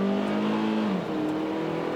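A 2017 Kia Soul Turbo, front-wheel drive, accelerates hard with a loud, close engine rising in pitch, then drops briefly as it shifts before pulling again, with no talk over it.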